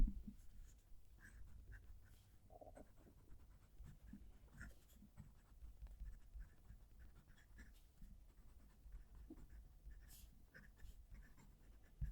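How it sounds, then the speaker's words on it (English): A Ranga Model 5 fountain pen, filled with a dry ink, writes on slightly textured Ayush paper, giving faint, close scratchy strokes in irregular bursts against a quiet background. "I'm going to move the mic down to the paper so you can hear the pen writing."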